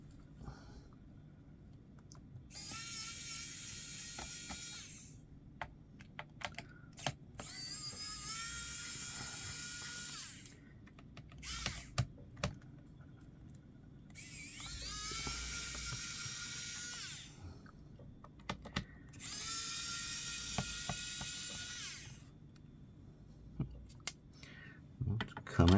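On an HP Pavilion x360 laptop, a small powered screwdriver whirs in several separate high-pitched bursts as it backs out screws, with clicks and handling noises in the quiet gaps between them.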